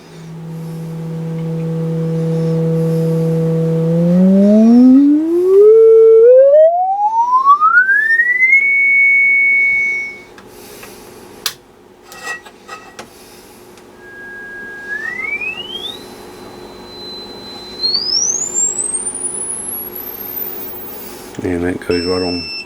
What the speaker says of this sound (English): I got a speaker connected so we can actually hear the tone